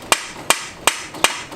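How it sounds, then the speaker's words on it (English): Sharp metallic hammer blows striking a stuck OEM downpipe on an E92 BMW 335i with N55 engine, five evenly spaced hits in quick succession, loud and close. "I'm straight up hitting it with a hammer and it will not come off."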